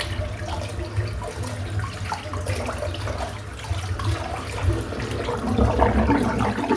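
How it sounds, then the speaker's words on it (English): Water runs steadily from a tap into a bathroom sink as hands and the basin are rinsed after a head shave, a close, continuous splashing that swells slightly near the end, with no talk. "I'm just going to rinse my hands off, rinse the sink it."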